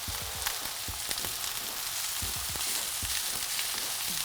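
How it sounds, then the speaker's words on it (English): Browned butter sizzles steadily in a hot cast iron pan, with soft crackles and pops scattered through the continuous frying hiss. "the butter in that cast iron has now turned brown. Oh, there's that sizzle."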